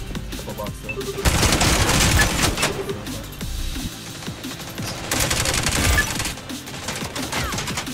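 Rapid bursts of gunfire from the Spectre Divide shooter game crackle almost continuously, loud and dense, with short lulls between volleys.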